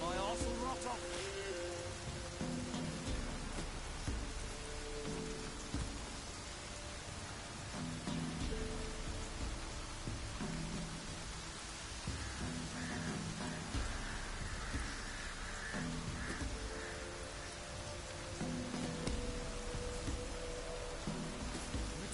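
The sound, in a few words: rain falling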